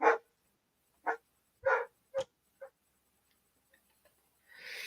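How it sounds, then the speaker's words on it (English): A pet dog barks in short bursts inside a home, five sharp separate barks spaced unevenly, fairly close and moderately loud, followed by a brief rustle at the end. "My dog's going bonkers."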